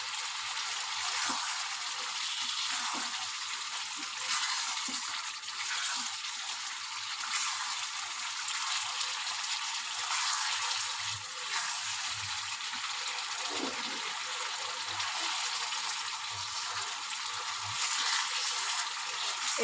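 Fried potatoes go into well-cooked spiced masala for a coriander chicken curry, and the pan sizzles continuously. The hiss is steady, close and bright, and holds throughout without speech.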